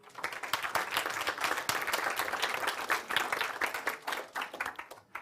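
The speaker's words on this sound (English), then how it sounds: "Guys, give yourselves a round of applause." A seminar audience at a hypnotherapy business training gives a round of applause, many hands clapping in a brisk, even patter that holds for about five seconds and thins out at the end, fairly quiet and distant.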